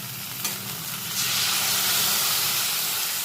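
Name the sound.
washing water from spice bowl poured into hot pan, sizzling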